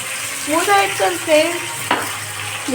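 Green chillies fry in a hot pan with a steady, close sizzle and a few stirring scrapes, while a voice talks over the frying.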